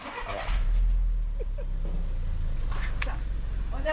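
A car pulls away on a street in Japan, its engine a steady low rumble that swells and then holds, with brief voices and faint incidental sounds over it.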